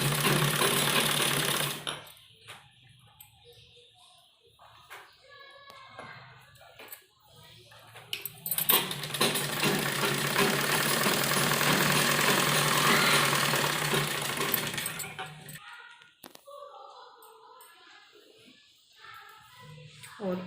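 A sewing machine stitches fabric for a newborn baby dress, a steady mechanical whirring run in two stretches with pauses between, close and moderately loud, with someone talking quietly in the gaps.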